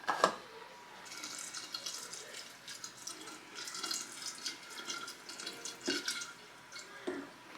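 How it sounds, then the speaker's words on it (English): Water poured into a container of fermenting chicken feed, a steady faint trickle and splash like a running tap with a few small drips and clunks, heard alone without speech. "So I'm going to put some water in here at first just so you get the idea"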